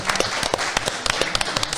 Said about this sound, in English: round of applause for Freeway